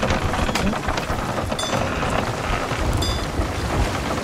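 Heavy storm rain pours steadily in a video game, with rumbling thunder blended underneath throughout, loud and continuous with no talk.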